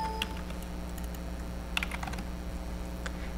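Numbers being typed on a computer keyboard, a few sparse key clicks, then a short quick cluster of taps, close and quiet over a faint steady hum.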